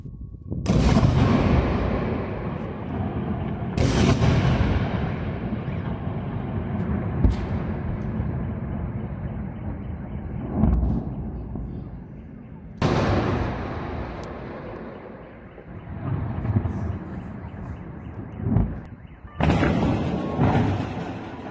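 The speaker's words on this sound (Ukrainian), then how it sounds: "очевидці зазняли декілька прекрасних вибухів у Севастополі" Heavy explosions boom over Sevastopol in occupied Crimea after a massive missile strike. About five separate loud blasts land at irregular intervals several seconds apart, each followed by a long, rumbling decay.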